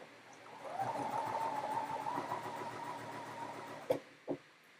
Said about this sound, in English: Now we're going to sew that 1/8 of an inch right down the side.